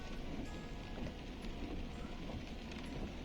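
Rain falls steadily in Himachal Pradesh, a faint, continuous patter without voices.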